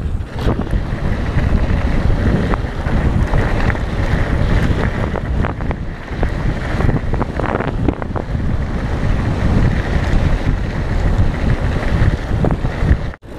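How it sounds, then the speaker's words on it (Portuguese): Strong wind buffets the microphone in a continuous rough roar during a downhill descent on a rural trail, loud and unbroken with no voices. "Dá-lhe vento, papai."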